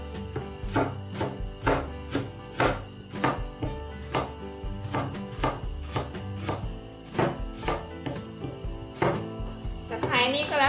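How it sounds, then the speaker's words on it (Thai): A knife chops lemongrass stalks diagonally into thick slices on a cutting board, giving a steady series of sharp, close knocks with a short pause near the end. "หั่นแฉลบๆหั่นเฉียงๆอะค่ะชิ้นมันจะได้ใหญ่หน่อย"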